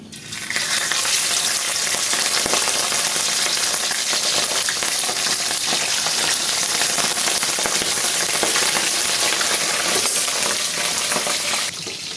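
Salted fish frying in a pan of hot oil, a dense, steady sizzle and crackle that holds at full loudness for about eleven seconds before easing off at the end, with no talking.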